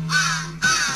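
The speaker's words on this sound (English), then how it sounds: "I have to yell over the fucking birds." Crows caw twice in quick succession in the Santa Claus in Trouble video game, loud, harsh and close, with nothing else heard.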